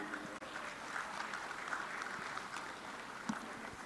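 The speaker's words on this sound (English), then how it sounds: "A round of applause for Bukola Akinade." An audience at the Africa Gaming Expo 2026 claps for a speaker, faint and distant, a continuous patter of applause in a large hall with a few sharper claps standing out.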